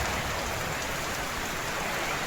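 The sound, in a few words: rain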